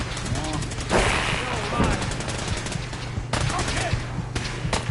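Gunfire in the Fallout 4 video game, with rapid bursts of shots crackling over a steady low background hum and brief voice-like sounds mixed in, continuing across the whole stretch.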